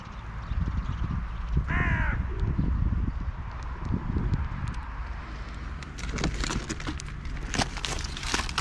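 Crows caw now and then in an open field on a rainy spring day amid steady wind and rustling, with one clear nearby caw and fainter calls further off.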